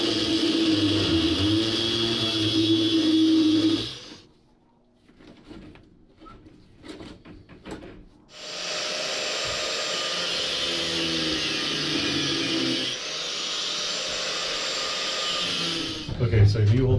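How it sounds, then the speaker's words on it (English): An angle grinder cutting through a metal roll-up door on a box van gives a loud, harsh, sustained whine in two long bursts separated by a brief quieter pause. "Just maybe cut it with a grinder right here."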